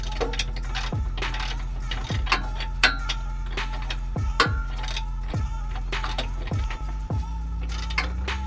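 A ratchet tightening bolts on heavy-duty front control arms during a truck suspension install, irregular clicking ratchet strokes with sharp metallic knocks, close by in a quiet shop.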